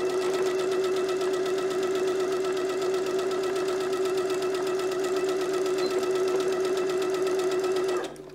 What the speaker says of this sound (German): Das nähst du jetzt mit einem Zentimeter Nahtzugabe und dem Geradstich zusammen.